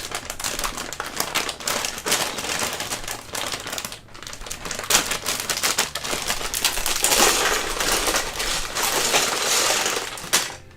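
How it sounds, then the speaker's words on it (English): Plastic bags of LEGO-style bricks are torn open and handled close by, giving loud, continuous crinkling and rustling with sharp crackles and no talk. "I'm gonna open these bags real quick, so you're gonna hear some crinkling."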